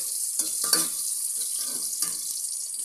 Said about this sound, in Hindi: थोड़ा सा भून लेंगे आधे मिनट के लिए।